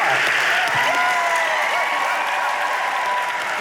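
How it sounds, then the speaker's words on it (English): An audience packed into a crowded room claps steadily in a thick, even stream of applause, with a few voices calling out above it. "Let's clap some more."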